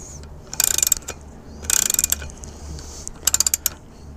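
A ratchet clicks in three quick bursts, snugging a part on an outboard motor's lower unit during lube and prop service, close and crisp over a low background hum.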